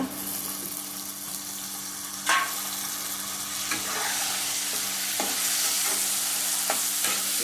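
Chopped tomatoes frying in a pan for a mushroom gravy, a steady close sizzle with occasional sharp scrapes and stirring knocks of a spoon against the pan.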